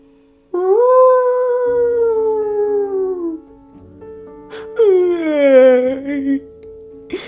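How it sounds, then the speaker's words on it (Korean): A wolf howls in two long, loud, wavering calls that slide downward in pitch, heard close and alone against a quiet background. "늑대의 울음소리도 들려왔어요."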